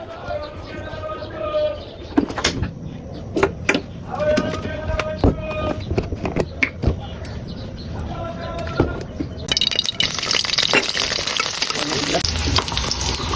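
Onions sizzle in hot oil for a small sea fish curry, with steady frying crackle and intermittent spoon scrapes and stirring clatter, while pigeons coo in the background and the frying grows louder toward the end.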